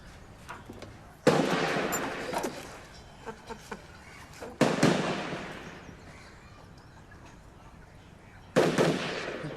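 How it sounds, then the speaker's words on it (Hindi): Gunfire from a nearby firing range comes as three loud, sharp shots spaced a few seconds apart, each with a short ringing tail, and faint smaller pops and quiet background sounds in between. "फायरिंग रेंज है, रोज होता है। बंदूक।"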